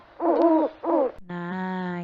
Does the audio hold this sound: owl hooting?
yes